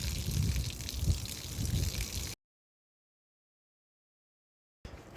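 Dirty water is poured out of a container after being swished and shaken, a loud close gushing trickle that stops abruptly partway through, then briefly resumes.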